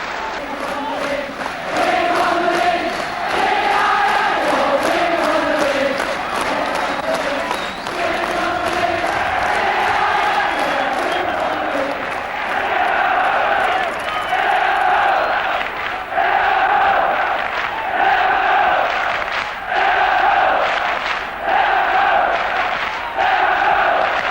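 A large Liverpool football crowd on the Kop chants and sings in unison, loud and sustained, with rising and falling tuneful phrases echoing across a stadium.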